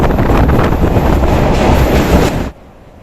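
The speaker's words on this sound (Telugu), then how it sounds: "ఈ గోదావరి వంతెనపై దాదాపు ఏడు ఎనిమిది నిమిషాల పాటు అలాగే రైలు వెళ్తూనే ఉంటుందండి" A train rumbles loudly across the Godavari river bridge, a dense, continuous roar of wheels and carriages up close that drops away sharply near the end.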